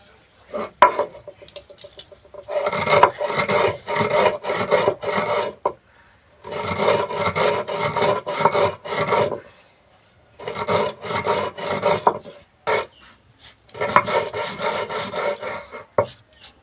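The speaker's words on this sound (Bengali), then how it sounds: "চিনিটা এবার গুঁড়ো করে নিচ্ছি।" Sugar is ground into powder for an Oreo biscuit cake in a mixer grinder, heard as several loud, close bursts of rough whirring and rattling, each a few seconds long, separated by short silent pauses.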